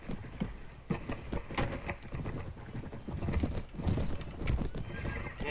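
Horses in the Mount and Blade video game whinny and clatter along at a gallop, a steady clip-clop of hooves running under the noisy in-game battle.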